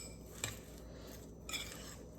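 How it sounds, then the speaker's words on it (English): A metal spoon clinks twice against a bowl while mixing chopped vegetables for a sandwich dressing, two brief taps over a faint, quiet background. "So there's my handy dandy spoon and just mix my veggies together"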